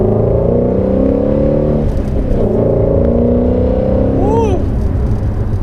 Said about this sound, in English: put it into sport mode with that exhaust and do that again